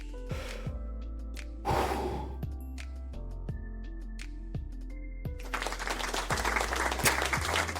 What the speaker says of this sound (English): Thank you for the applause, Redeem.